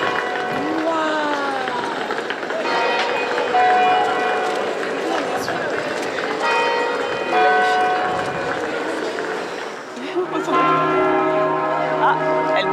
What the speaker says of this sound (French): Toutes les heures de la vie sont célébrées ici et annoncées avec les cloches de cette cathédrale